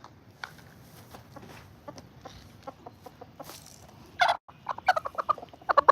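Silkie chickens cluck softly in scattered, irregular bursts, quiet at first and then louder and busier toward the end.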